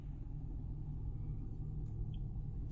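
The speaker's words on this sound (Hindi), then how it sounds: "अंदर कैबिन में बैठने के बाद इस गाड़ी का इंजन नॉइस लगभग लगभग आपको ना के बराबर ही सुनने को मिलेगा" Low, steady engine rumble of a Hyundai Exter heard from inside the cabin, faint and even throughout with no talking.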